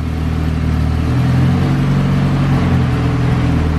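Turbocharged Honda hatchback engine held at a steady loud drone on a dyno pull, a continuous close roar with strong low harmonics that shift slightly in pitch midway.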